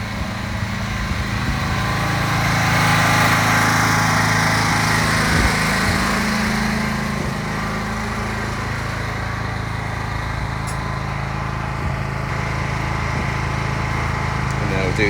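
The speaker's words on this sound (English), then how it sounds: "Good old noisy generator." A noisy generator runs steadily on a house construction site in Barbados, a loud continuous engine drone with a buzzing hum throughout, while faint voices talk underneath.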